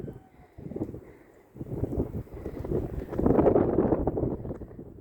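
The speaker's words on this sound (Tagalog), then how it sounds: "Kaya lang maginaw. Malakas ang hangin." Strong, cold wind gusts during snowfall buffet the microphone in low rumbling surges, rising and falling and building toward a heavier blast near the end.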